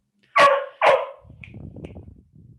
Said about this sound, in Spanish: perdón por los ladridos